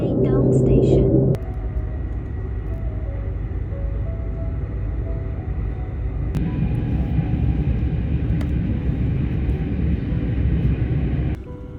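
Steady low rumble inside a China Railway high-speed train, a constant droning roar with faint rattles and a few sharp clicks, after a brief tonal chime at the start.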